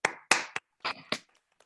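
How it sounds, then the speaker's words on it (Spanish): A few scattered hand claps from a small Zoom audience after a seminar talk on superconductors, five or six sharp, separate claps over under two seconds, close and clipped by the microphone. "Les pedimos a los que están en el Zoom que activen su micrófono para darle un aplauso"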